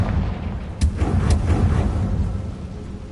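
Confringo explosion spell from Hogwarts Legacy, a deep booming blast with rumbling low end and a couple of sharp cracks in quick succession near the start, fading into a lingering roar.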